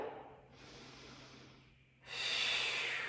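Breathing during a Pilates mat exercise: a soft, close exhale, a brief pause, then a stronger airy inhale or exhale rushing through the nose.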